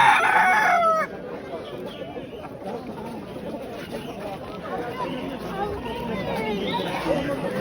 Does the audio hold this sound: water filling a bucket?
no